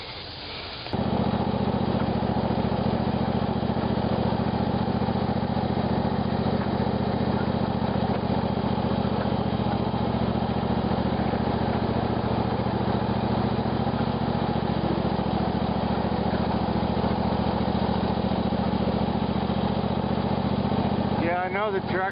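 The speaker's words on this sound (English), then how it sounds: "I know the tractor noise might be a little bit loud on the video" A tractor engine running steadily close by while driving through the woods, a loud, continuous rumbling drone that holds even throughout with no pauses.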